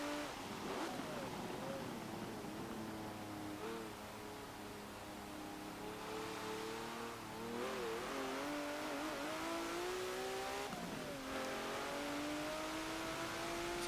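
A 1986 Lamborghini LM002 fitted with a swapped-in V12 engine in Forza Motorsport 7, revving hard with rising and falling engine pitch through gear changes, loud and continuous with brief tire noise.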